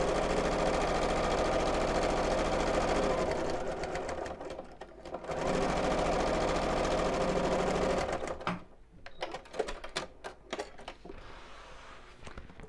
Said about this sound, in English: And then sew close to the edge along the top, just within the seam allowance, to hold that in place